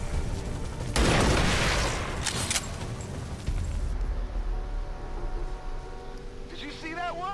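A sniper rifle shot in XCOM 2 bursts out as a loud broadband blast, followed by a second sharp crack and rumbling decay, with game music and a voice talking afterward.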